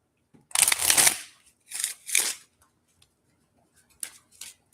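A deck of playing cards is riffled and bridged close up in several quick bursts, a crisp fluttering rattle with short pauses between shuffles and a few softer taps at the end.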